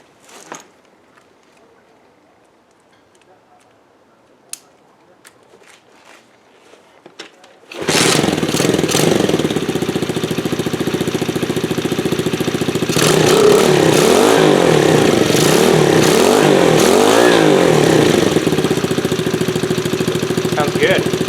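A 1974 Honda ST90 motorcycle engine fires up after a quiet stretch of faint shuffling, settling into a loud, steady idle close by, then revving in repeated rising-and-falling bursts.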